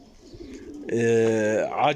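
Racing homing pigeons cooing up close on a rooftop, a low throaty coo swelling out of quieter background noise and rising at the end.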